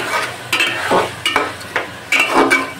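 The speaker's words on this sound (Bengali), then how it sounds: "তেলের উপরে আমি দিয়ে দিয়েছিলাম চালগুলো" Rice fries in oil with nuts and whole garam masala for polao, a soft sizzle broken by several sharp scraping strokes of a spoon stirring the grains, close by and without speech.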